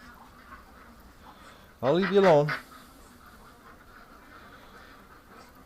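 A duck sitting on eggs gives a short burst of harsh, nasal quacking close by. It lasts under a second amid otherwise quiet surroundings, and someone speaks briefly nearby.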